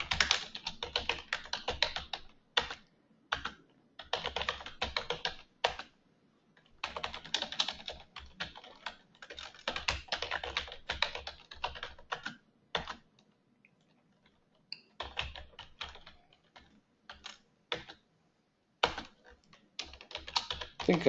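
Bursts of rapid clicking on a computer keyboard as a password is entered during a software training session, close and distinct, with short silent gaps between runs of keystrokes.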